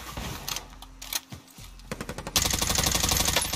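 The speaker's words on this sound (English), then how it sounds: "Getting shot at, yeah, they're getting shot at." Gunfire in a video game kill race: scattered single shots give way to a loud, continuous rapid-fire stream of automatic weapon fire close at hand.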